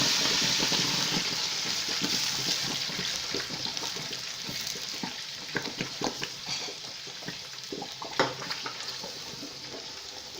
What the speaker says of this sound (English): Your oil has to be very hot before you pour in your tomatoes